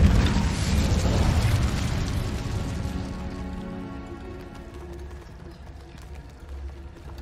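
An Incendio fire spell erupts in the Hogwarts Legacy video game: a loud, dense burst of roaring flame that fades and thins over several seconds into a lower crackling rumble.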